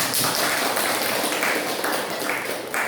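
Classroom applause from a group of students, a steady dense patter of many hands clapping at close range that continues throughout.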